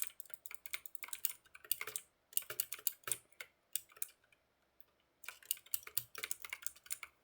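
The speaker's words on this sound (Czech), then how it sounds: "Mě znervozně, jak furt slyším tu klávesnici." Quick bursts of keyboard typing, clicky keystrokes in irregular runs with short pauses between them, close by and fairly quiet.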